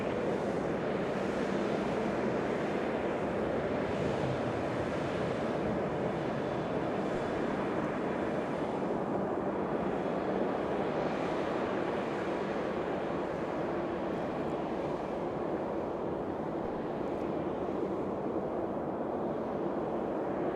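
An airliner taxies at Toronto Pearson airport on a freezing winter day, its engines a steady, distant, moderate drone with wind noise, continuing without pause for the whole stretch.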